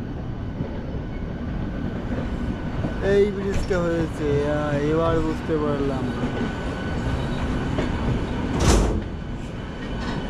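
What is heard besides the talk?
local train with white engine and red coaches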